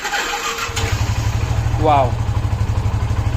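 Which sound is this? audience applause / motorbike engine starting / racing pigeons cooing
motorbike engine starting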